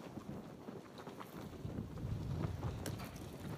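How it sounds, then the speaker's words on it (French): Gusting wind buffets an outdoor pétanque youth final, a continuous roar of microphone wind rumble that swells stronger partway through, with no talking. "Dans les bourrasques de vent naissantes."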